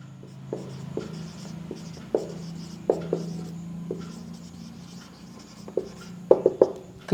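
Chalk or marker strokes on a board during a chemistry lecture, a series of distinct scratchy taps and short rubbing strokes at moderate distance, clustering toward the end, with no talking.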